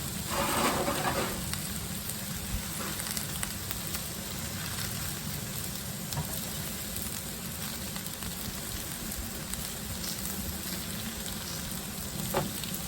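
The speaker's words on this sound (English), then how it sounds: "I'm just dumping eggplant, zucchini, and yellow squash" Eggplant, zucchini and yellow squash frying on an oiled Blackstone griddle, a steady dense sizzle with scattered pops and crackles at an even, moderate level throughout.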